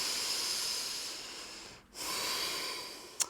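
Slow, deep yoga breathing is heard up close: one long airy inhale-like hiss, a short pause, then another drawn-out breath, ending in a quick sharp sniff, with no talking.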